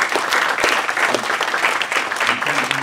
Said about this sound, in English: We'll just give them a round of applause